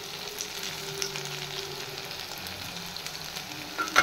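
Koftas fry in hot oil in a pan with a soft, continuous sizzle and bubbling, ending with a light clatter as they are turned.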